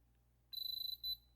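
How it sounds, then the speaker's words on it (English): A quick run of high electronic beeps from a metal detector, about a dozen in rapid succession, then a short pause and one longer beep, fairly faint and close. "Oh, sorry about the beeping."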